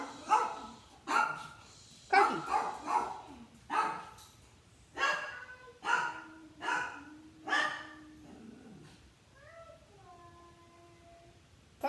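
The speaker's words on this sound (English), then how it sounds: "dogs are barking" Several dogs bark in short irregular bursts, close and fairly loud, about a dozen sharp barks over several seconds, followed by a few higher whining yelps; a voice briefly calls out.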